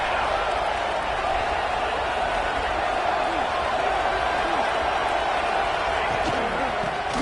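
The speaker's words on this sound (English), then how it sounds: "And here comes the noise. This crowd is trying to inspire this defense to make a big red zone stop." Football stadium crowd roaring and cheering during a red zone defensive stand, a dense continuous wall of crowd noise at steady loudness throughout, with a commentator's voice faintly mixed in.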